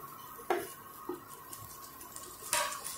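Fried paneer stirred into kadai paneer gravy in a pan, with a few scattered scrapes and clinks of a spoon against metal, close and moderately loud over a faint steady hum.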